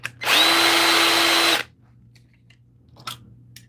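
A power case trimmer cuts 6.5 Creedmoor rifle brass down to length, one loud, close, steady high whine lasting just over a second, then cutting off into quiet with faint handling clicks.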